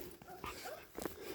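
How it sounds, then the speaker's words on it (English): Dogs whimper and whine just outside in a few short, high, plaintive bursts. They are close and moderately loud over a faint background. "look, my dogs are waiting for me out here."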